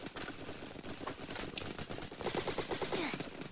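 Gunfire in a first-person shooter, including an AUG rifle: rapid repeated shots crackle steadily at moderate loudness, with a voice speaking briefly near the end.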